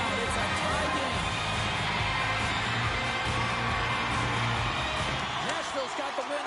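An arena crowd in a hockey video game roars and cheers in a continuous loud swell, with a game commentator talking over the noise.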